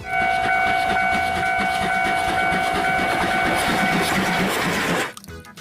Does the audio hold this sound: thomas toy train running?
yes